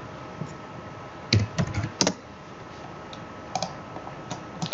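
Computer keyboard keys clicking as a command is typed into Rhino 3D modeling software, a quick close cluster of keystrokes followed by a few scattered taps over a faint steady hum.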